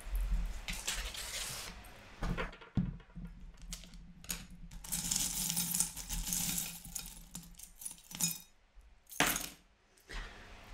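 Small metal charms are cast onto a surface for a divination reading, producing clinking, jangling rattles in several short bursts with quiet pauses between, close and without speech.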